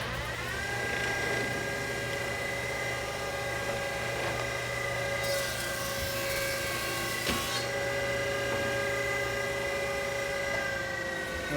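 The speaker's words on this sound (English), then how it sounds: "Send that through the thickness planer." A thickness planer runs with a steady, even mechanical drone and high whine in a woodworking shop, constant and moderately distant, with no talking.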